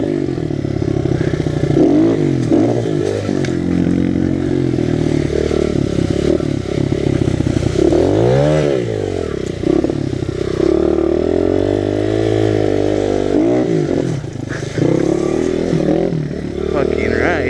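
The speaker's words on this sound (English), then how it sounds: "This thing is pretty decent at popping up wheelies and power wheelies." A 100cc Honda XR 100 pit bike revs hard while being ridden, its engine note rising and falling through wheelie attempts, loud and close with clattering mechanical noise throughout.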